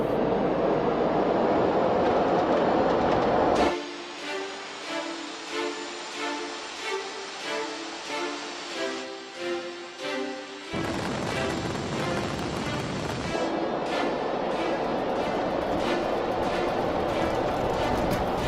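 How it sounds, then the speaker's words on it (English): Concorde jet engines roar at takeoff thrust in a 3D animation of Flight 4590, a loud broadband rush that drops out for a musical passage midway before the engine roar returns. "The captain applied the takeoff thrust."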